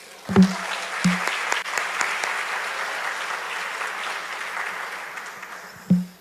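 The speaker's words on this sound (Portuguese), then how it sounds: "Vamos aplaudir o Senhor, queridos?" Church congregation applauds the Lord during a service, dense sustained clapping filling the room, with a few sharp thumps near the start and end.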